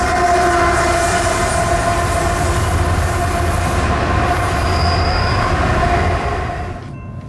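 CSX freight train I-158 rumbles past on the River Line near Mine Dock Park and Haverstraw, ET-44AH locomotive at the rear, a loud steady roar of wheels with squeal and a distant horn, fading at the end.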